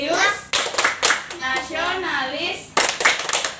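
A third-grade class claps together to a school clap chant, sharp bursts of group hand claps spaced between children's chanting voices, loud and close.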